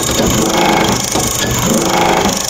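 Diesel injector nozzle for an Isuzu 4HL1 engine spraying on a calibration tester in rapid, harsh hissing bursts. The sound is loud, close and continuous, with a gritty crackling texture.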